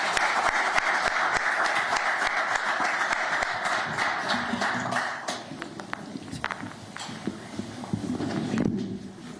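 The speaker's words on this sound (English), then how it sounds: "Claps abound" A crowd claps steadily, a dense patter of many hands that thins and fades, with a few scattered claps and some murmuring near the end.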